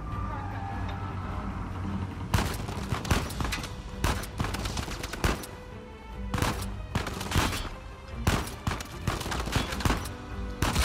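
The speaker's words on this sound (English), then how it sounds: "I just shot both of them." Rapid bursts of video game gunfire crack out in repeated volleys, loud and close, with short pauses between clusters of shots and players talking over the action.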